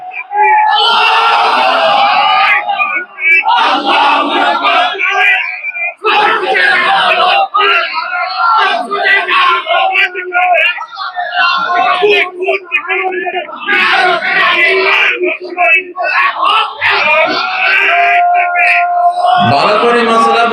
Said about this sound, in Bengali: মুসলমান দাও এরকম একটা তাকবীর।